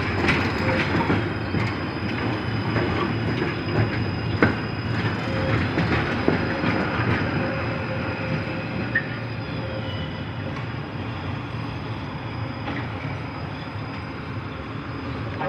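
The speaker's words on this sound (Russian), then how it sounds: "я под шум трамваев прекрасно сплю" Trams roll past on city tracks, with a steady rumble, clattering wheels and faint squeals that swell and fade over several seconds, and no talk.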